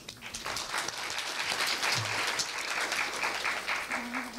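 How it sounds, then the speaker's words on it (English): An audience at a Korea University conference gives another round of applause for a professor, sustained, full clapping throughout with a few faint voices mixed in beneath it. "Please give him another round of applause"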